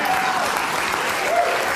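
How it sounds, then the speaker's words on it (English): The studio audience of Bill Maher's show applauds with steady, dense clapping that fills the whole moment at an even level. "found themselves applauding Republicans"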